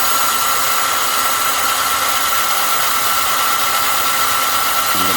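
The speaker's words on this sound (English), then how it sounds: "now I'm drilling a hole" A power drill bores a hole in a mounting plate during an RV table modification, giving a steady, loud, high whine that holds evenly for several seconds before a slight shift at the end.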